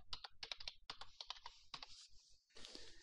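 Keys clatter in quick irregular bursts as a password is typed on a computer keyboard while setting up a MikroTik router, close and crisp with short pauses, ending in a brief rustle.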